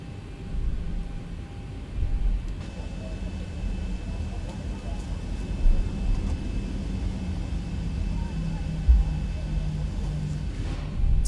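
A Boeing 737-800 taxis in the flight simulator X-Plane 12, giving a steady low engine rumble and broadband roar throughout with no speech.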